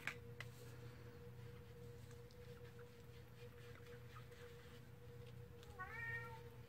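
Indoors during a crafting session, a cat gives one soft, rising meow near the end, faint and somewhat distant over a steady low background hum.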